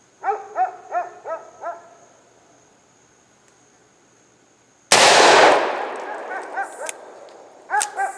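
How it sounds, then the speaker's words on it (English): A Ruger GP100 .357 Magnum revolver fires one loud, close blast at a Master Lock, its broad crack decaying over a second, preceded by a dog barking several times in the distance and followed by further barks and metallic clinks. "So, GP 100, 357 mag. See what we get with this one."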